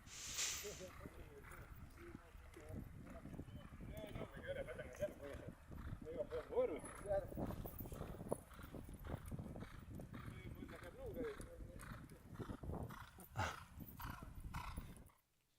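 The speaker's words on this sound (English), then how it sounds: "I didn't think the Spinacci got his horse to jump out for him right there." Polo horses' hooves thud and clop on the field during a USPA North American Cup match, irregular galloping beats mixed with crowd and field noise beneath continuous commentary.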